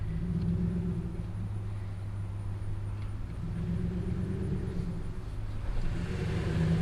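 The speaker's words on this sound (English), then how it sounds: "this is our first drive with the new cold air intake and the new fan" Ram 1500 pickup truck cruising with a new cold air intake and fan, a steady low engine and road rumble heard from the cab, even and continuous throughout.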